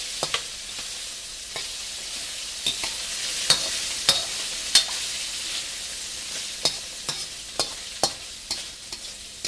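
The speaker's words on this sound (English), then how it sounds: "Mix that around because this stuff is starting to fry up like eggs, popping everywhere" Garlic frying in a pan for General Tso's tofu, a steady bright sizzle punctuated by frequent sharp pops and spatters at irregular intervals, close and fairly loud.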